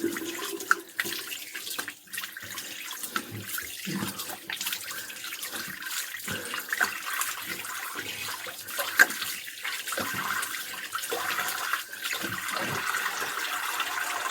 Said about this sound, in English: So we're just going to rinse it with water.